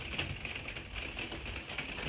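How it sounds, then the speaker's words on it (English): Steady rain falls outside a hotel room window in Manchester, a dense, even hiss with soft patter continuing throughout, with no voices. "Fuck off, rain."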